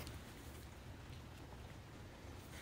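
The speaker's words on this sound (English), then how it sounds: "It's raining so hard." Heavy rain pours steadily over a city street, a dense continuous hiss with no letup, fairly loud and close, with no voices.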